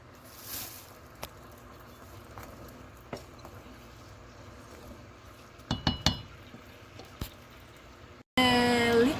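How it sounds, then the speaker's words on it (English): Melting palm sugar (gula) is stirred in a pot, with soft scraping and scattered metallic clinks of a utensil against the pot, fairly quiet overall. "Just keep stirring it until gula totally melt."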